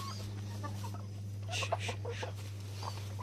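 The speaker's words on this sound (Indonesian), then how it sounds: "Ni ada ayam seekor. Tadi dia bergaduh." Soft, close clucks from a laying hen inside a coop, a few short bursts over a steady electrical hum, with faint talk mixed in.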